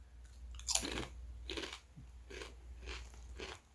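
Someone crunching Parmesan garlic kettle chips, several close, crisp bites and chews spaced about half a second to a second apart over a quiet background.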